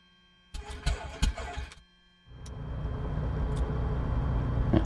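The engine of an FS Reborn Sting S4 light aircraft in MSFS 2024 starts with a few sputtering cranks, pauses briefly, then catches and settles into a steady droning idle.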